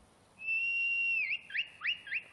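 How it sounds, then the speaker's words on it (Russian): A high whistle to summon a horse in Skyrim: one long sustained tone that breaks into three quick rising chirps, clear and fairly faint. "свистнем нашего коня"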